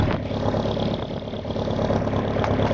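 A 1984 Jeep DJ-5M engine with a broken vent valve runs close by, a loud steady rumble that swells slightly as it is revved, with no talking.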